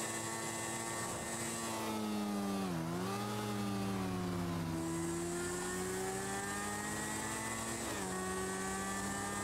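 A motorcycle rides along in a Shadow Punk game session, its engine droning steadily with pitch dips and swells as it slows and picks up speed again, heard alone and up close.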